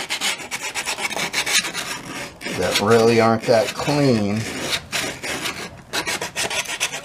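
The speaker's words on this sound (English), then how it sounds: "taking that light sandpaper and knocking off those edges" Light sandpaper rubs back and forth over the cut wooden edges of an F hole, giving quick rhythmic rasping strokes close by, with someone talking in the middle.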